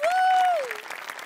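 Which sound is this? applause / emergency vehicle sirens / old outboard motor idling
applause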